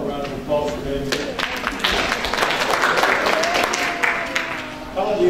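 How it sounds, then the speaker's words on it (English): Audience at a 2016 mayoral candidates forum claps for themselves, a full, even round of applause from a roomful of people, with a voice speaking over the start and the close. "And I'm going to invite you to give yourself a round of applause for being here."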